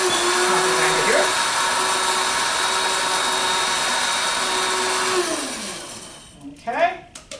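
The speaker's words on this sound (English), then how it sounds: "I'm just gonna put some tea in the coffee grinder. And then we will grind this up again." An electric coffee grinder grinds tea leaves with a loud, steady motorized whine for about five seconds, then spins down and stops, followed by a few brief clattering sounds.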